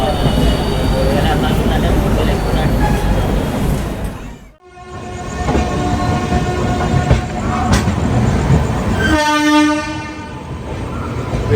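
A passenger train on the Hyderabad to Vijayawada route rumbles loudly along the track, then its horn sounds in sustained blasts over the continuing clatter and wheel noise, close and strong.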